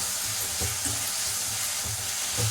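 Ginger garlic paste hits a hot pan and fries with a steady sizzle and light scraping, close and continuous with no one speaking.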